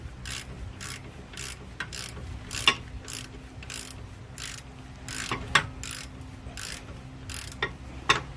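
Ratchet clicking in short repeated bursts while tightening rear shock absorber bolts on a Nissan, with a few sharper metallic knocks between strokes, close and alone.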